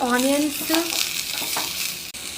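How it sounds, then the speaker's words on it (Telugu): Onions frying in a pan for egg puffs give a steady close sizzle with a few soft stirring scrapes, opened by a brief tonal, voice-like sound before the hiss carries on alone. "ఆనియన్స్ ఇలా ఫ్రై చేయాలన్నమాట. రెడ్ అయ్యేంత వరకు ఫ్రై చేయాలి."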